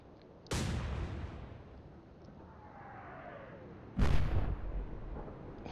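Naval gunfire in the video game Atlantic Fleet: two heavy booming salvos, one early and one near the end, each a sharp blast trailing into a rumbling roar, with a faint whistling shell sound between them.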